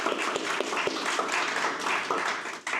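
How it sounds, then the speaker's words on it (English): An audience applauding at a tech meetup talk on monitoring in quality assurance, steady dense clapping throughout with a few sharper claps standing out. "Oh, clapping us."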